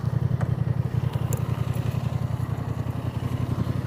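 A Honda Transalp 750 motorcycle idles nearby with a steady, even low throb of rapid engine pulses, running alone without any talking.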